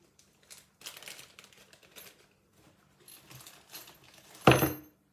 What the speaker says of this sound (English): this is my bag of screws